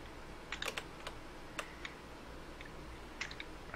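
Sparse, irregular keystrokes on a computer keyboard, a few scattered clicks in small clusters against a quiet background hum, with no talking.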